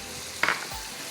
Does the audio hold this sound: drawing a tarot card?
no